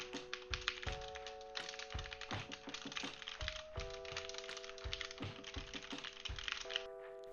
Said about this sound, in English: see how much sound it picks up when I'm typing on the keyboard